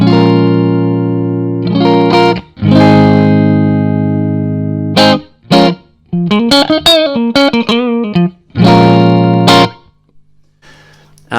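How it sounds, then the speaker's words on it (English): Clean electric guitar tone played through a Keeley Caverns V2 reverb pedal, with strummed chords ringing out and a quicker picked melodic run in the middle, loud and close with brief gaps between phrases. "This is my clean tone."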